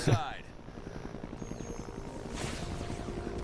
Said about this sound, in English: as I come out with the helicopter